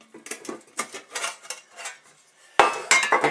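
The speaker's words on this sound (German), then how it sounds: "Das ist auch ein militärisches Kochgeschirr in Edelstahl." A two-piece stainless steel US Army mess kit, a pan with handle and a plate, clanks and scrapes as it is handled close up, giving a string of bright metallic knocks with a louder clatter near the end.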